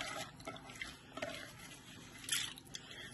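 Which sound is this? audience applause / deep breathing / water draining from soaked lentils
water draining from soaked lentils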